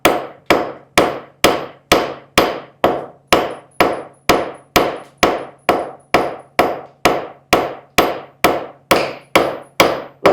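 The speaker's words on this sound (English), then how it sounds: "then we can just take our forging hammer and then proceed to start." A forging hammer strikes silver in a steady, evenly spaced series of about twenty loud metallic blows, each ringing briefly before the next, with no talk.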